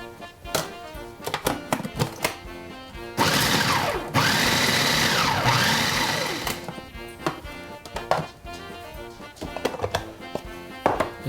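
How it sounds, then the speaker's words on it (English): A food processor grinds a chocolate cake layer into crumbs with rapid rattling chops, then a dense continuous whir for about three seconds, then more bursts of choppy pulsing. "Now we take the 4th layer and we put this into our food processor. Because this we're going to take and grind up so we can get cake crumbs."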